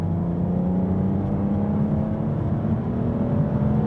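An Aston Martin DBS V12 engine hums steadily from inside the cabin, a low droning tone rising gradually in pitch as it accelerates, with no voices.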